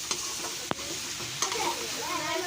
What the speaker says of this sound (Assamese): এনেদৰে অলপ দেৰি ভাজি থাকিম, এইখিনি গোটেইখিনি ভালদৰে মিক্স হৈ যোৱালৈকে আৰু ভালদৰে সিজালৈকে।